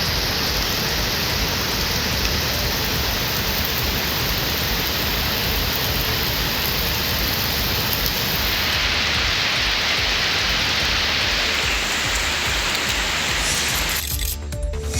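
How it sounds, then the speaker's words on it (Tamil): Moderate rain in the suburbs of Chennai such as Tambaram, Pallavaram and Chromepet, falling as a dense, even hiss that holds loud and steady throughout, with no voices. "புறநகர் பகுதிகளான தாம்பரம், பல்லாவரம், குரோம்பேட்டையிலும் மிதமான மழை பெய்தது."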